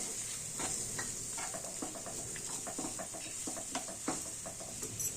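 Potato curry for a vegetarian aloo dum being stir-fried in a pan, a steady high sizzle with repeated scraping and clinking strokes of the spoon throughout, close and alone.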